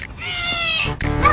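A cat gives one drawn-out, close meow followed by a shorter second call, with a person speaking briefly around it.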